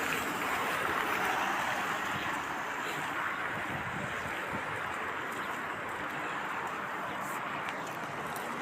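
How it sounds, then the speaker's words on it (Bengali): Heavy rain pours down in Kuwait, a dense continuous hiss and wash of water that holds steady and close throughout. "এই দেখো এখন ঝরঝর করে বৃষ্টি পড়ছে।"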